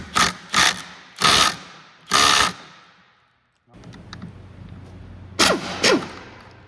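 Ratchet wrench loosening a 5mm Allen screw on the auger of an Ego snow blower, several loud close bursts of rapid clicking separated by pauses, with faint mechanical handling between.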